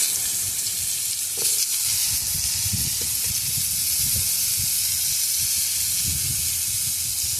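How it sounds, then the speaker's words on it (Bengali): Pumpkin greens and potatoes frying in a pan with a loud, continuous hissing sizzle, close up, with occasional soft stirring bumps underneath and no talk. "আমি এখন কুমড়ো শাক দিয়ে আলু দিয়ে রান্না করব।"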